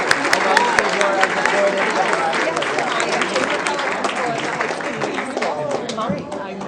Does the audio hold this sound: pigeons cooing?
no